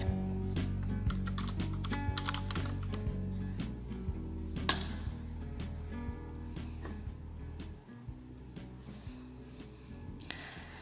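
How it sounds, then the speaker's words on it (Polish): Rapid key presses on a computer keyboard, entering a password to log in to a library catalog, come as a quick, irregular run of close clicks with a faint hum underneath. "wpiszmy więc hasło i kliknijmy Zaloguj."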